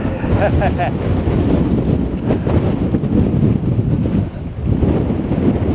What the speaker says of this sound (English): A little windy up here, isn't it?